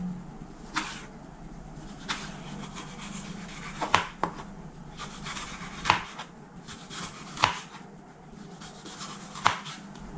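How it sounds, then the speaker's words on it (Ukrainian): A knife slicing tomato into half-rings and pepper into slices on a board: steady soft slicing with a handful of sharper chops ringing out at irregular intervals, close and clear, no talking. "Помідорку нарізаю напівкільцями, а перець нарізаю скибочками."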